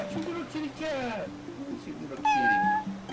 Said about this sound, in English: Oh, it's your little kitty cat!